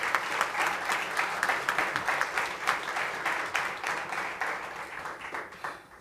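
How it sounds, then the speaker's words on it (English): Sustained applause from an audience at a 2019 Boston summer youth recognition event, dense steady clapping for the partners, supervisors and youth that holds for several seconds and thins slightly at the end. "I just want to give, a round of applause to the partners,"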